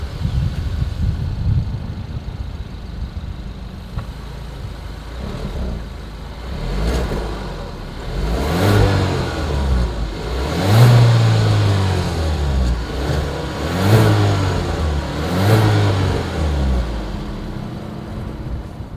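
Exhaust of a Kia Seltos revs repeatedly, building from a steady idle into several loud, close rises and drops in a rhythmic series, with no talking.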